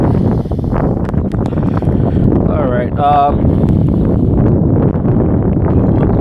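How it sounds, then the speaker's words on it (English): Strong wind buffets the microphone in a constant loud roar, with a person speaking briefly under the rumble. "Fucking windy as shit"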